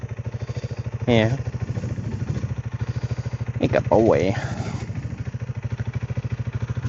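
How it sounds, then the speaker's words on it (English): A motorcycle idles while warming up, its engine thumping in a quick, regular, even pulse close by. Someone talks briefly over the running engine. "at least it's filling in the time for while we wait for the motorcycle to warm up"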